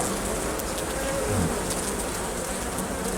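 Honey bees buzz densely around an open hive being prepared for winter, a close, continuous hum with a few individual bees flying past near the microphone.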